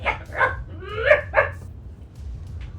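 A dog barks and yips in a quick burst of about four close, fairly loud calls, then falls quiet over low background rumble.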